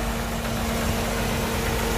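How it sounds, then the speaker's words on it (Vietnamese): A 2001 Fiat Siena car with a carburetor engine idles smoothly and steadily close by, a continuous low rumble with a faint hum, no talk over it. "máy nổ ra con xe này nổ rất là êm nha anh chị"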